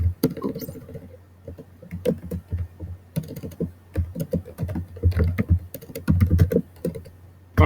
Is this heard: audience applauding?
no